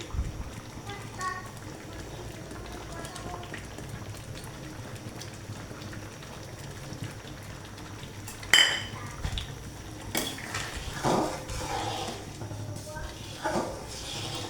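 Chotpoti being mixed with a homemade secret spice in a bowl: soft stirring with scattered metallic spoon clinks against the dish, growing busier and louder toward the end.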